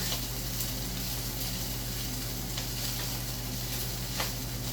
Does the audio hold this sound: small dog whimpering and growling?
no